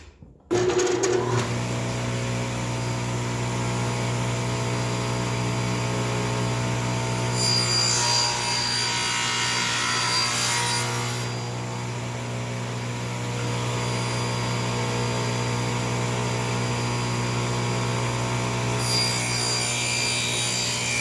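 A piece of wood is sawn off a blank for a cigar pen before turning. The saw runs as a continuous steady drone with a low motor hum, and the cutting roughens and brightens midway. No one speaks.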